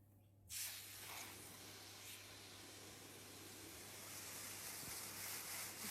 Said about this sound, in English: Gentle spray is all you need.